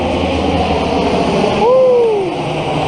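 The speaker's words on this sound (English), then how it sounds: "Check out that plane. That's a military plane right there." A military plane passes overhead above a river after heavy rain, a loud rising-and-falling jet roar swelling toward the end over steady water and engine noise.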